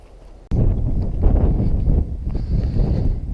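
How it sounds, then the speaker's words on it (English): Gusty wind blows outdoors along a path near a shunting yard, a steady broadband rush buffeting the microphone after a sudden onset, with no speech. "As you can hear, the wind has got up a little bit"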